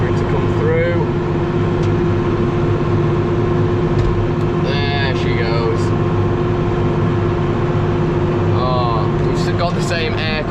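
Tractor pulling a manure spreader that is spreading six-month-old manure, giving a loud, steady engine drone that runs unbroken through the whole stretch, with a voice talking over it at intervals.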